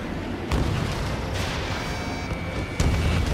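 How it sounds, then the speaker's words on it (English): Missile impacts in the Ace Combat 7 jet combat game, heavy booming explosion bursts at the start and again near the end over a dense continuous roar of engine and battle noise. "Missile hit."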